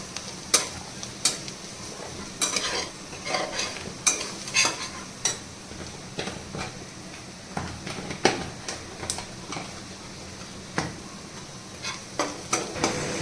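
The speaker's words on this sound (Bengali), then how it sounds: "ধনের গুঁড়ো দিয়ে ভালো করে নাড়িয়ে নিতে হবে।" Spoon stirring ground coriander into a sizzling spiced mixture in a pan, soft scraping taps against the metal at an irregular rhythm over a steady low frying hiss, close and quiet.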